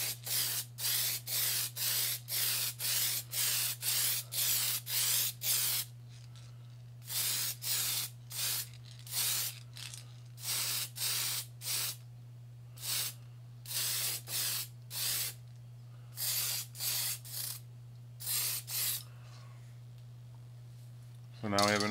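Short bursts of spray paint hiss onto a 1993 Dynablaster model nib, coating it in black paint; the sprays come in quick regular pulses, then sparser, uneven blasts, all over a steady low hum.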